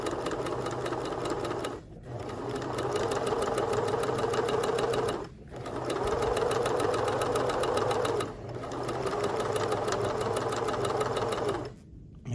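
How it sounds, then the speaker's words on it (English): Close, steady whir of a sewing machine stitching along a fabric hem, running in long continuous passes with brief pauses roughly every three seconds. "So I'm gonna keep sewing and we'll eventually get to the end."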